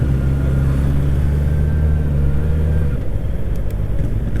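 A Honda motorcycle engine lugs at low speed in sixth gear, around 20 km/h, with a steady low rumble that drops to a rougher, uneven drone partway through.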